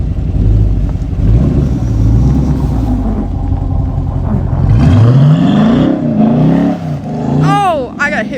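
Mopar car with a check engine light driven in manual mode while drifting through a snowy parking lot, a loud close engine rumble climbing as it revs, with voices talking and shouting over it.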